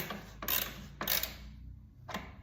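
A ratchet snugging the lower fairing bolts on a 2024 Harley-Davidson, heard as three brief bursts of clicking spaced about half a second to a second apart, with no talk.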